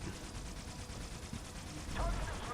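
Needler alien weapon in Halo: Spartan Assault fires at a tank, a dense stream of rapid, crackling shots running steadily throughout and swelling slightly louder near the end, with faint voice underneath.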